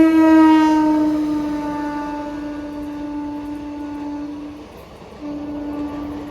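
WAG9 electric locomotive hauling a freight train, blowing a long, loud steady horn that pauses briefly and resumes, with a faint rumble underneath.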